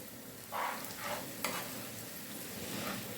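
Rice sautéing and being stirred in a pan until toasted, with soft steady sizzling and a few gentle scraping strokes, fairly quiet and close, no talking.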